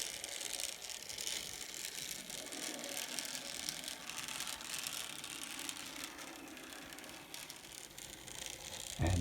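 A Bachmann N scale 2-8-2 Mikado model locomotive fitted with Shapeways replacement gears, running on test with a steady fast whirring, ratcheting gear noise that stays even throughout and ends in a short bump.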